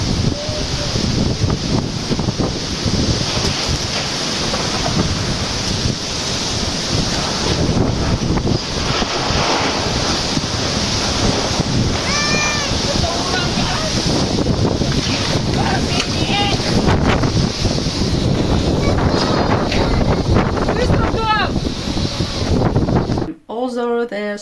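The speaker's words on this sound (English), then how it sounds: "a storm and thunderstorm started pouring down with rain" A thunderstorm: heavy wind roaring continuously with a dense hiss of driving rain, loud and unbroken, with a brief sharp cutoff at the very end.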